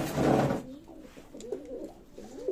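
Royal Teddy running-pair pigeons coo softly and repeatedly at close range, their low throaty calls rising and falling after a brief burst of louder noise at the start.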